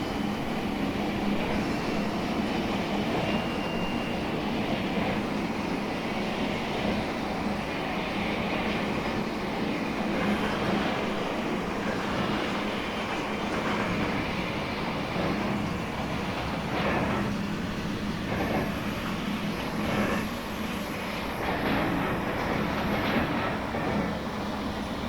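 Freight cars rolling steadily behind a BR41 2-8-2 steam locomotive in Train Simulator Classic, a continuous close rumble with soft rail clatter and faint squeals, no voices.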